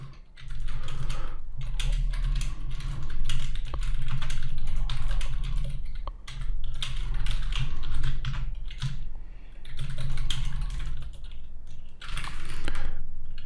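Computer keyboard typing, a close, fast patter of key clicks in bursts separated by short pauses, fairly loud and alone without talk.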